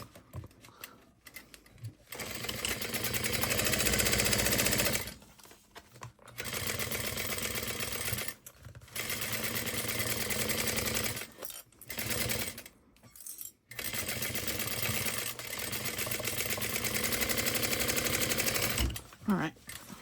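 A sewing machine stitches a crossbody bag panel in several bursts of a few seconds each, slowing at the corners, with short pauses between runs and some talk alongside.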